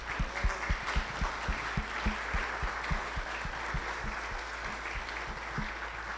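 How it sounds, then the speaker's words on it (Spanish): An audience at an architecture book presentation applauds Lucy with steady, moderately distant clapping from a smallish crowd that holds evenly throughout without fading. "espero que todos también le demos un cariñoso aplauso a Lucy"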